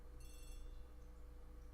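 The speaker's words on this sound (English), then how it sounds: "The telephone in the hall is ringing." A telephone rings in the hall in the Agatha Christie A.B.C. Murders video game, giving one short, bright electric bell burst over a faint steady hum.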